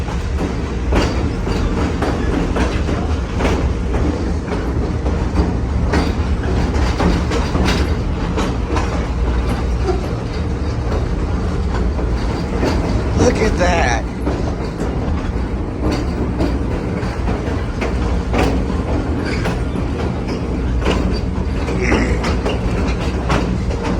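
Train riding along the Hiwassee line behind locomotive TVRM 5109, with steady loud rumble of railcars and rhythmic clickety-clack of wheels over rail joints throughout, plus occasional faint wheel squeal.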